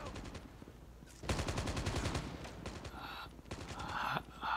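Gunfire in the mobile shooter game Call of Duty Mobile comes in rapid automatic bursts, with a short pause and then further volleys, loud and close.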